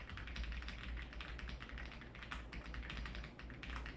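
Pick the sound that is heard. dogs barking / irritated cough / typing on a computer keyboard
typing on a computer keyboard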